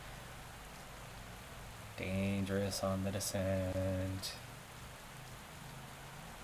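Steady rain hiss during a wet downhill stage of a road race in the game Pro Cycling Manager 2022, running continuously under a stretch of commentator speech.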